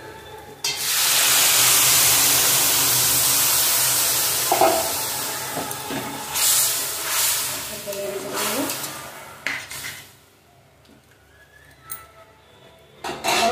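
Pumpkin greens tossed into garlic frying in a pan, a loud, close sizzle bursting in at once and holding strong for several seconds before easing off into quieter crackles and faint stirring.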